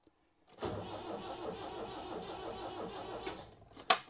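A diesel car engine with a suspected glow plug problem cranks on the starter after its fuel system was partly emptied and primed by hand. After a brief silence comes a sustained, rhythmic churning close by, ending in a sharp knock.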